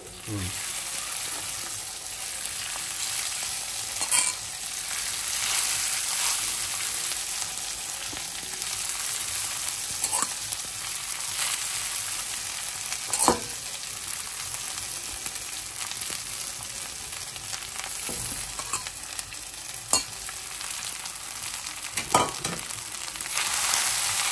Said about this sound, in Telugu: పోపు అయిపోయింది, అన్నం వేసుకున్నాము.